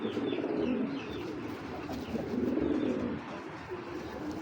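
Low, rolling coos of a red-tailed (Laldom) female pigeon repeat in soft bursts, close by, with faint chirps and background noise around them.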